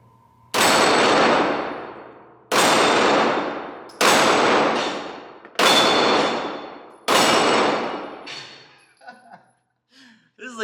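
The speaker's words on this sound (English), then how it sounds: "This is like a piece of cake hitting those targets with this freaking gun." Five loud, sharp shots from a CZ TS2 9mm pistol fire at spaced intervals, and each shot rings off a steel target with a long metallic clang. The shooter breathes and murmurs faintly afterward.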